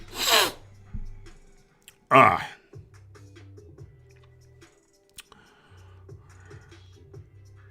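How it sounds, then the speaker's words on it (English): A single sharp human sneeze bursts out near the start, followed by a second loud sneeze-like burst a moment later, with a low hum and faint clicks between. "Excuse me, I've got a sneeze."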